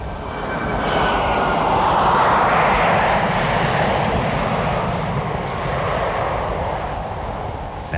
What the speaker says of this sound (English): The well-loaded aircraft again displays its sprightly takeoff and steep initial climb.